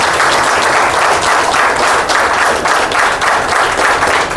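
Crowd at a leadership meeting clapping hard and steadily, a thick wall of applause with slight swells in intensity, close and loud, no voices over it.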